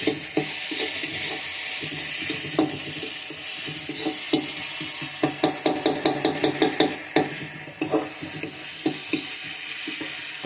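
Vegetables with capsicum sizzle steadily in a pan for chowmein while a utensil clanks and scrapes in repeated stirring strokes, close and with no talk.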